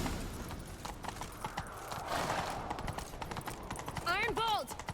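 Rapid hoofbeats from galloping horses in the video game The Witcher III, under shouting voices and game action, with a horse whinny rising near the end.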